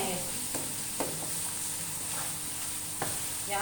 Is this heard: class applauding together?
no